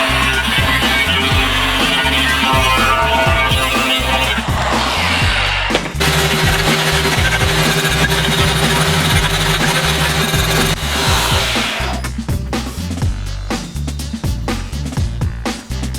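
An angle grinder cuts a marked metal sheet held in clamps, a loud continuous screeching whine with shifting pitch as the disc bites, close and steady for the whole stretch with no talk.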